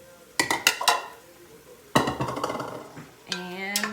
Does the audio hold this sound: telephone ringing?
no